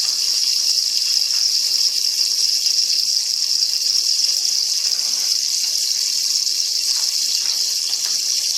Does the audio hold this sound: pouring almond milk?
yes